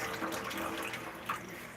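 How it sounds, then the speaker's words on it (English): Water running from a kitchen tap as food is rinsed in a clean sink, a steady close splashing stream that stays even throughout with a brief louder gush near the end. "I'm going to rinse these off."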